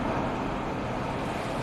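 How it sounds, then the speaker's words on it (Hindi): Cyclone Amphan's storm surf with waves up to 15 feet high, a dense, continuous roar of crashing water and wind with no break, loud and close. "15 फीट तक ऊंची उठती लहरें"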